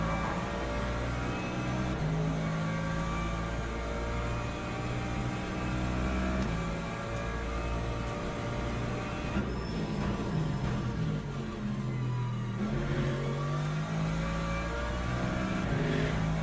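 Hypercars race in the sim Le Mans Ultimate, a steady high engine drone with layered whining tones that shift as the cars accelerate and pass, loud and continuous.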